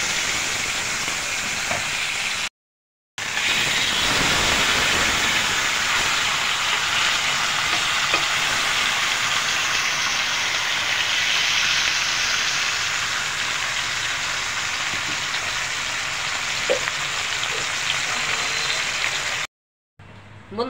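Fish fries in hot oil, giving a loud, dense, continuous sizzle with occasional crackles and stirring sounds, briefly cut by two short gaps of silence.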